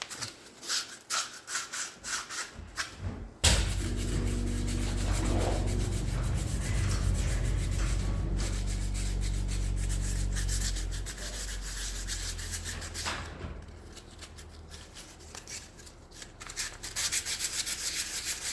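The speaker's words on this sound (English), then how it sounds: "I'll probably sandpaper this a little bit too." Sandpaper scrubs a hot, rusty motor part from a Simplicity 1390E snow blower, starting with a few short scuffs and then becoming a long, continuous, close abrasive rasp with a steady hum beneath it.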